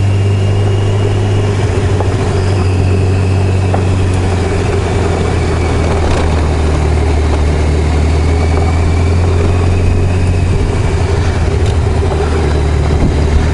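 A used street motorcycle riding along a gravel road, its engine droning steadily and loudly throughout with constant low rumble and road noise.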